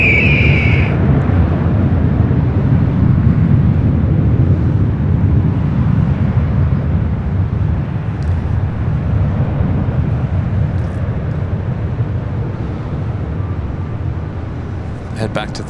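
A Lufthansa Airbus A380 taking off from runway 24 left at LAX, a loud, sustained jet roar with wind buffeting the microphone, holding strong throughout and easing only slightly toward the end.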